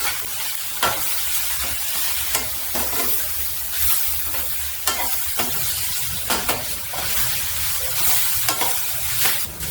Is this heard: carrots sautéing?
yes